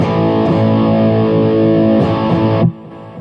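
Electric guitar through a Boss MS3 blending a clean channel in parallel with a Rat distortion channel sustains a thick, saturated chord, struck again partway through, then cuts off sharply into quiet hiss.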